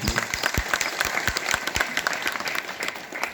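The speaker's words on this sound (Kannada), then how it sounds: "ಅವರಿಗೂ ಕೂಡ ಒಂದ್ಸಲ ಜೋರಾದ ಚಪ್ಪಾಳೆ" A crowd claps loudly and steadily, many hands overlapping into sustained applause.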